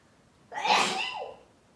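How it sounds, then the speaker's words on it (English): A single sharp sneeze bursts out close to the mic after a quiet moment, then trails off into silence. "Oh, I just sneezed."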